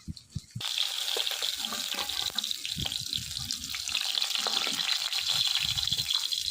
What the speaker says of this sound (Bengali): এবার বাকি মাছগুলো ভেজে নেব।